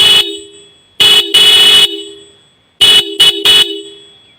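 An electronic tri-tone horn, converted from an air horn, sounds in loud, steady harmonic blasts: one short toot, then a pair of longer blasts, a pause, and a final group of three quick blasts, with no talk.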